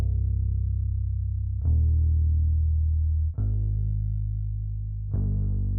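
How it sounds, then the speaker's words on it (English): A low, sustained bass in a shoegaze/nu metal track made in FL Studio plays three long notes in sequence, a simple chord progression, each changing pitch cleanly, smooth and prominent with nothing else around it. "And then we have the bass, which is basically playing the same progression,"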